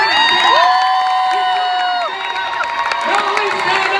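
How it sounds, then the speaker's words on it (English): Crowd at a Comic-Con panel in San Diego cheering and whooping, with high shouts and excited voices rising over a loud, bustling hall. "Give a big round of applause"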